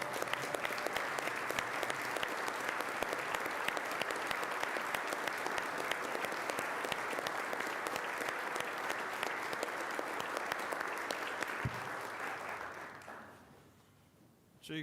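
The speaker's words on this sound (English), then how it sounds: "I'd like for us to all stand up and give him a round of applause" A room at a city board of commissioners meeting, on its feet, gives a long round of applause, a steady crowd clatter that holds for about twelve seconds before quickly dying away to near quiet.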